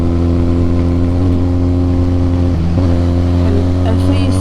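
A Harley Davidson X350 motorcycle ridden on a mountain road drops a gear, its steady loud engine drone dipping briefly then rising in pitch as it revs, with wind noise throughout.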